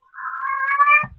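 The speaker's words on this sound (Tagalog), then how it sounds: "Iingay ng pusa ko, di ba?" A pet cat gives one clear, drawn-out meow lasting about a second, close and fairly loud, rising slightly before trailing off into a faint low rustle, with no talking.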